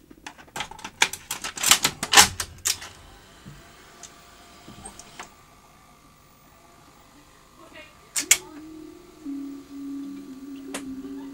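A Philips N1502 VCR in the N1500 format loads tapes, giving a cluster of sharp mechanical clunks and clicks early, more clatter later, then a low motor whir, with speech in places.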